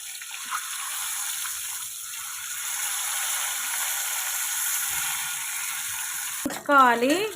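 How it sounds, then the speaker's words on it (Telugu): Boiled eggs frying in turmeric-spiced oil in a pan, a steady close hiss and crackle that runs throughout, broken near the end by a short clattering scrape of utensils. "ముందుగా ఆయిల్లో కొంచెం పసుపు యాడ్ చేసుకొని బాయిల్ చేసుకున్న మనం ఎగ్స్ని వేయించుకోవాలి"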